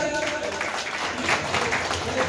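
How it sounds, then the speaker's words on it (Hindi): An audience at an Indian Army Day event applauds a retired Gorkha Regiment colonel, the clapping continuous and moderately loud with crowd voices mixed through it. "ताली तो बनती है यार"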